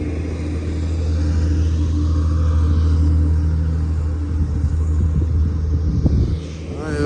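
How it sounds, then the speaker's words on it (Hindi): Loader truck rumbling across a bridge over a river, a heavy low engine drone and deep rumble that swells, holds steady nearby, then fades slightly as it passes. "जिस तरह लोडर गाड़ी जा रही है ना"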